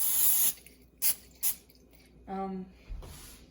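Short bursts of cooking oil spray hiss into a preheated pan on low heat, several quick close squirts with brief pauses, followed by a faint sizzle.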